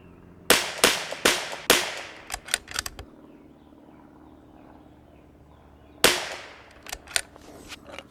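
Sharp rifle shots from a Bergara B14R Heavy rifle firing Elite match ammunition, four cracks in quick succession followed by faint clicks and, after a pause of a few seconds, another loud report, each with a short decaying echo.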